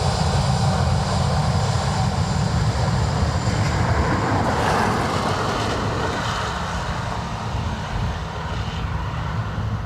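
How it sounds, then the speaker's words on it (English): An Aer Lingus airliner in from Manchester lands at Dublin Airport on a wet, gusty Sunday, its engines giving a steady, loud broadband roar that holds for the whole stretch and eases slightly toward the end. "Aer Lingus from Manchester, next to land."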